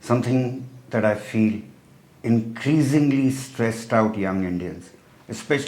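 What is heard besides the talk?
No everyday noise stands out behind the speech.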